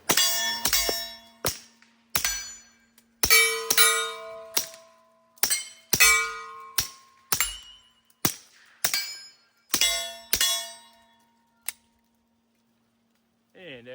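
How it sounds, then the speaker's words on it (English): A Ruger RXM pistol fitted with a suppressor and running its factory recoil spring fires about a dozen sharp, clanging reports in an uneven string, each with a metallic ring, then stops. "with the right ammo, this little gun runs just fine suppressed"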